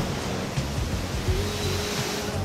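Ocean waves breaking on a Hawaii shore, a continuous roar of surf and wash with gentle swells in loudness, steady and fairly close, with no voices.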